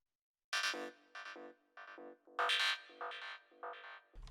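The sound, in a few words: psytrance metal fill sound from Vital synth preset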